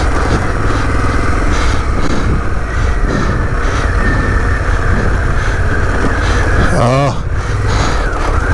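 Harley-Davidson Pan America adventure motorcycle climbing Webster Pass in Colorado, its engine droning steadily and loud under wind rush, with a rider's voice talking over it.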